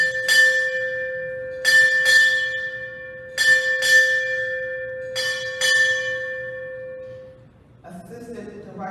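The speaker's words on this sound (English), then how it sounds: "Sound 8 bells." A ship's bell strikes eight bells at a Naval Hospital Jacksonville ceremony, in four quick pairs, each double clang ringing out and decaying, followed by a brief murmur of sound.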